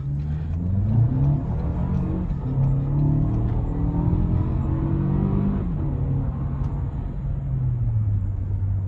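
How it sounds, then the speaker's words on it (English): A 2024 Toyota Grand Highlander LTD pulling hard in sport mode at night, a steady engine rumble rising in pitch through one gear, dipping at a shift, then climbing again, heard from inside the cabin without talk. "Yeah, this vehicle gets up to speed with relative ease."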